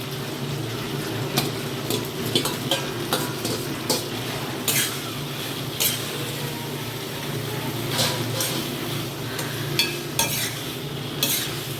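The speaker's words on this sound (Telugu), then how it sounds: "దీంతో ఇప్పుడు మనం పాస్తా కలుపుకోవాలి కొంచెం కొంచెం కొంచెంగా" Pasta being stirred into a sizzling pan with a spoon, repeated scraping and clinking of utensil against metal over a continuous frying hiss, close and fairly loud, with faint talking in the background.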